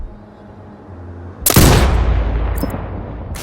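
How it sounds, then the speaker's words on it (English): A single loud sniper rifle shot in the video game Sniper Ghost Warrior Contracts 2 cracks sharply after a quiet lead-in, then rolls into a long echoing tail. "Adjust for range and use the bullet drop curve to line the shot up."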